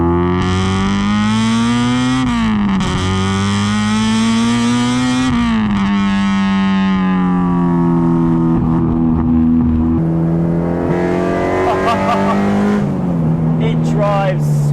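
A Honda CRX with a K20 engine drives with a loud, close engine note that climbs and dips through gear changes, while someone talks over it from inside the car.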